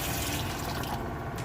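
Water pours steadily into a cooking pot holding pork leg for crispy pata, a continuous splashing rush at close range, alone with no talk.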